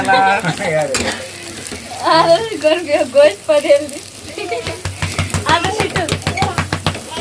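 Masala fries and sizzles loudly in a pan before chicken is added, with stirring scrapes and clinks through the sizzle and a voice talking over much of it.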